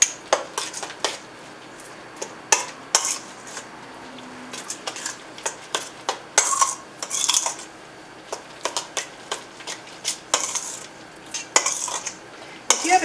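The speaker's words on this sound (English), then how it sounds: "now we're just going to stir it all in together" Apples being stirred into a raw apple pie filling mixture in a bowl, giving repeated close scraping and clinking strokes in an uneven rhythm, moderately loud with no talking.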